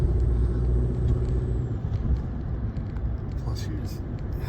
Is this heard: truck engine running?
yes